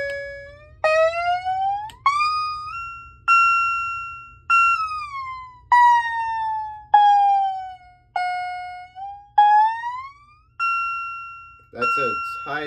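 A siren tone from an MS-2 mini system cycles through about ten rising and falling wails, each a separate loud sweep that cuts off abruptly, followed by a brief harsh burst at the end.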